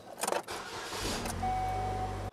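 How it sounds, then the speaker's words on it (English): A car engine cranks briefly after an oil change, then catches and settles into a steady, close idle. "Next thing we got to do is start up the engine and then check the oil level."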